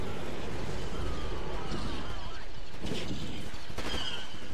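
Blaster fire rattles through a modded Dxun map in the video game Star Wars Battlefront 2, with rapid bursts of shots layered over a constant, loud wash of battle noise.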